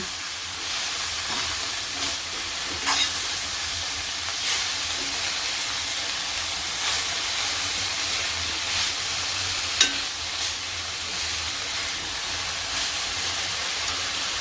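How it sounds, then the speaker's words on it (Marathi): Dill leaves (shepu) sautéing in oil give a steady, bright sizzle with occasional soft clicks of stirring, unbroken and without talk. "आता शेपू पहिला तेलावरती चांगला परतायचा"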